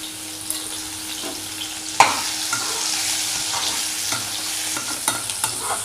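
Boiled potatoes fry in hot oil in a pan with a steady sizzle, broken by a sharp clatter and scraping stirring strokes, close up with no talking.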